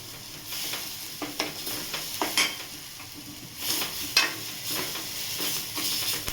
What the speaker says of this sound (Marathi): अद्रक लसूणची पेस्ट छान परतली ना, त्याच्यामुळे मस्त असा सुगंध येतोय